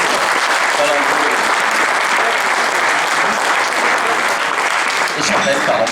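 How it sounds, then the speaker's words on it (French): Sustained loud applause from an audience at a competition awards announcement, steady dense clapping filling the whole stretch without a break. "On peut l'applaudir."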